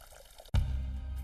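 Spring water trickles and drips from a cupped hand beside a large rock among trees and plants, starting with a sudden close splash that settles into a steady, soft running flow.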